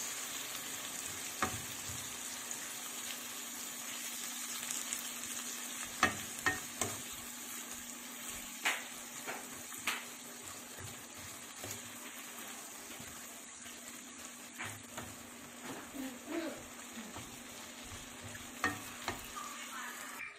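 Corned beef and vegetables stirred in a pan: a soft steady sizzle under scattered light scrapes and clinks of the spoon against the pan, fairly quiet and with no voices.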